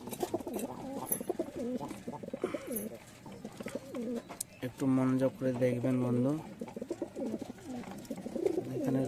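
Giribaz pigeons, including a red one, coo in a rooftop loft, low rolling coos rising clearly in the middle and recurring beneath someone talking close by throughout.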